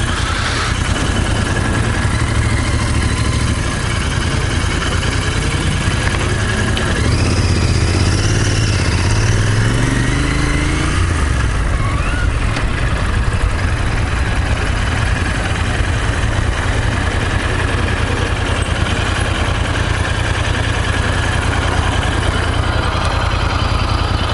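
A motorcycle engine idles with a steady low rumble, close and constant throughout, with a faint rising and falling tone from a passing vehicle partway through and no talk.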